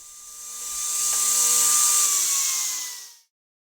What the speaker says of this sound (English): The plywood is cross-cut into the 2 pieces that will be laminated together.